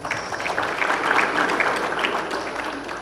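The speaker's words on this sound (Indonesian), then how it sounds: "Tepuk tangan untuk horas." Applause from a crowd at an inauguration ceremony for a Batak youth organisation, a dense, fairly loud rumble of clapping and voices filling a hall.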